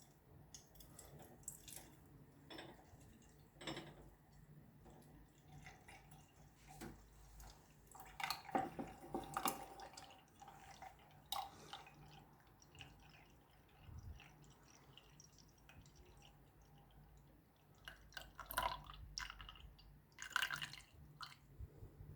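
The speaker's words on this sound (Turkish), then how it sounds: "Şimdi bunu suyunu alacağım." Water drained off a gold precipitate during gold recovery from hard disk chips, heard as faint, intermittent dripping and trickling with a few louder splashy bursts, no talking.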